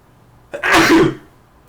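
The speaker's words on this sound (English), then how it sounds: "Sneezing." A single loud, close sneeze bursts out sharply and lasts about half a second before dying away into quiet.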